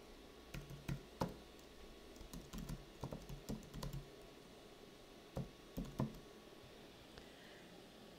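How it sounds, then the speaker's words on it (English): Quiet, irregular keyboard typing, a few short bursts of clicking keys with pauses between, close by and with no voices. "all I need to do is start typing"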